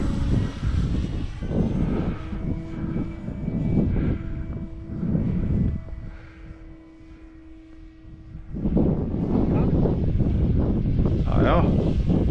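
Military aircraft, two fighter jets and a cargo plane, flying over an Icelandic airfield. A loud, broad engine roar rises and falls under wind buffeting on the microphone, easing off briefly midway before swelling again, with people talking over it.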